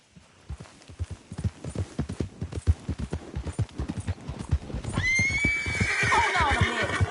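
A horse in Red Dead Redemption 2 gallops with rapid, rhythmic hoofbeats up close, then gives a loud, drawn-out whinny in the second half while the hooves keep pounding underneath.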